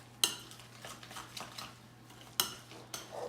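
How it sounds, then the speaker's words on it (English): Potato babka batter of grated potato, eggs, flour, margarine, parsley and bacon bits being stirred in a bowl: scattered scraping and a few sharp clinks of a utensil against the dish, quiet between strikes, with no talking. "Let's take this whole thing and let's make it a batter. Mix it all together."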